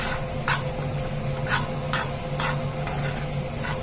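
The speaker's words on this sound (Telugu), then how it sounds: "ఇవైతే మంచిగా స్టవ్ చిన్నగా పెట్టుకొని వేయించుకోవాలి అట్లయితేనే మంచిగా ఫ్రై అవుతాయి అన్నమాట" Flax seeds dry-roasting in a pan over low heat, stirred in regular scraping strokes about twice a second over a constant faint sizzle, close up with no voices.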